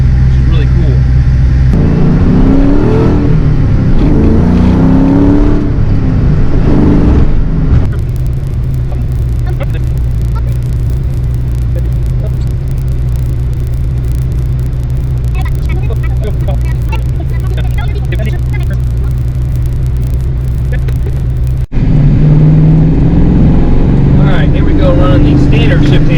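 A 1986 Mustang GT engine runs steadily at close range, a loud low rumble that rises and eases as the gears are shifted, with someone talking over it for much of the time.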